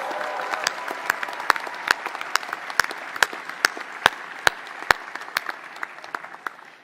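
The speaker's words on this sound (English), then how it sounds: "Can we have a round of applause, please, for the CS staff?" An audience at a computer science departmental graduation ceremony claps for the department staff, sharp individual claps standing out over a steady wash of applause that fades gently toward the end.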